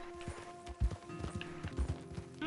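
Horse hooves clip-clopping in Red Dead Redemption 2, a quick irregular series of close, distinct hoofbeats over a quiet background hum.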